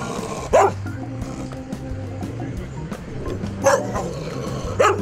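Stray dogs barking in a city, three sharp barks spaced a couple of seconds apart over a low steady background hum.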